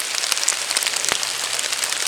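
Rain falls in a wet forest as a constant close hiss, sprinkled with individual drop taps and one brief louder splat, no one speaking.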